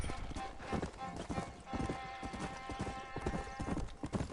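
Horse hooves in Red Dead Redemption: close, steady galloping clip-clop with a brief whinny, over a busy game background.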